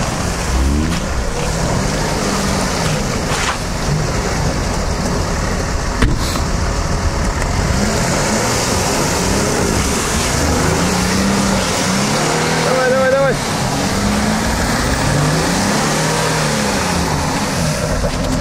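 A lowered car on test tyres revs hard and strains to climb off ice with its front wheels up and rears below, the engine drone rising and falling under wheel spin and scraping while people talk nearby.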